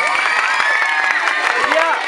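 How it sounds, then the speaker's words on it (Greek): A crowd of campers at an evening camp food event claps and cheers for the deputy leaders, a dense continuous roar of applause and shouting with voices mixed in throughout. "Χειροκρότημα, χειροκρότημα για τους υπαρχηγούς!"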